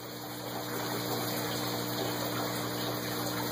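Water rushes steadily through a 1-inch pipe reduced to 3/4-inch CPVC in an ABS siphon setup, a continuous loud gushing flow with a faint hum, no voices.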